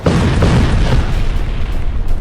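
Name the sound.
explosion blast boom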